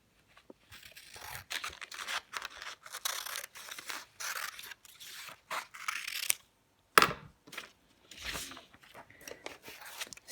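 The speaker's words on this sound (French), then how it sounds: "On va découper une nouvelle étiquette, une nouvelle bande de papier" Scissors snip through a strip of paper in a series of crisp, close cuts, several short bursts with brief pauses between them and one sharper snap near the end, with no voices.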